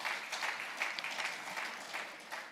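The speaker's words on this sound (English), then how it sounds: "I think that deserves a round of applause." An audience at a Zenith bank capital markets day presentation gives a short round of applause. The clapping is fairly faint and distant, with a brief swell that trails off.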